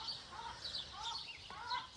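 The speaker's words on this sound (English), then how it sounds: "Sorry, the chickens are being noisy." Backyard chickens cluck and chirp steadily beside a summer garden, soft and somewhat distant, with no voices over them.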